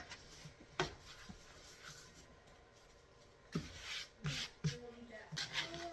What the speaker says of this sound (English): I just cut my hand around it and roll it around, and that pulls it pretty tight on the top.